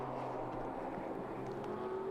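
Racing cars on the Suzuka circuit during a Japan Cup race, a Ferrari among them, producing a steady sustained engine drone with a rising tone near the end, heard from a distance without talk.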